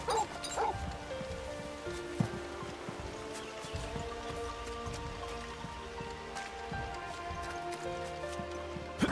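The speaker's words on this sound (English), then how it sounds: "I can make him bark." A dog in Final Fantasy XVI barks a few times near the start and again later, short yips set against a steady bed of rain and game ambience with faint background music.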